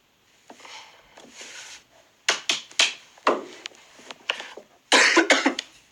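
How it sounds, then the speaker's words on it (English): Several harsh coughs come in bursts, a few single hacks then a clustered fit, loud and close, with some breathy throat noise between. "Big cough."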